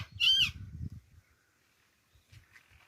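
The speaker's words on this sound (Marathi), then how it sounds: "या उमराच्या झाडावरती पोपट येत आहेत बसायला" A parrot in an old fig tree gives one loud, harsh squawk near the start, followed by quiet rustling and faint distant chirps.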